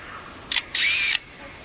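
A forest bird imitates a camera with a motor drive: a short clicking burst, then a sustained, buzzy mechanical whir lasting under half a second, close and fairly loud.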